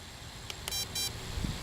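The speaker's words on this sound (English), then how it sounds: "2 beeps." Two short, high electronic beeps in quick succession from an MJX Bugs 3 RC drone, faint and clean against a quiet background hiss.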